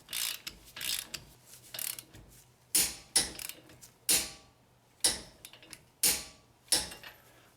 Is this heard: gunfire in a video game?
no